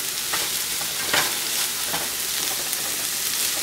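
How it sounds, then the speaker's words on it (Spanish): Chorizo frying in a pan alongside potatoes, a steady loud close sizzle and crackle with occasional stirring scrapes and no voices. "esperamos de este otro lado a que el chorizo se cocine"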